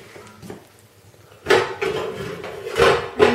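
A large solid copper cooking pot, big enough to cook for 100 people, is handled, giving several close metallic clanks and knocks in a short burst after a quiet start.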